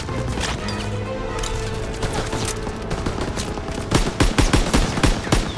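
Machine gun fire in Call of Duty: WWII, a WWII battle scene, with dense rapid bursts and scattered shots that grow sharper and louder toward the end, up close and without talking.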